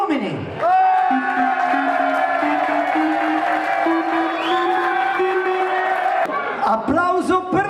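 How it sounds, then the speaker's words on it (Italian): Wedding guests raise a loud, sustained crowd roar of whoops and shouts for the men during the reception entertainment, the voices holding long and steady, then breaking off near the end. "L'applausometro, applauso per gli uomini!"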